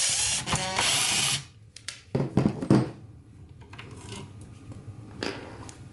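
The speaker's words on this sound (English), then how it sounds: "you just unscrew the 2 screws here and here." Mechanical ratcheting clicks from screws being removed from a Chamberlain chain drive garage door opener circuit board, close and intermittent, with a few louder bursts and quiet gaps between.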